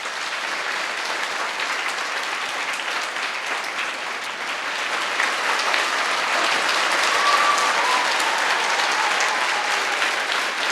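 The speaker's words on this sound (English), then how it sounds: "with a good round of your applause" Sustained applause from a large student audience at a school campus motivational talk, dense and steady for the whole stretch, swelling slightly louder in the second half with no voices above it.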